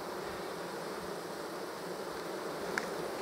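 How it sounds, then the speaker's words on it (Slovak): Honeybees hum in a dense, steady buzz around their hive, loud and continuous throughout. "tam je dosť veľa včiel"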